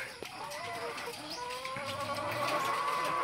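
Many layer hens cluck and chatter close by in a busy coop on a farm, their calls overlapping in a continuous, moderately loud murmur.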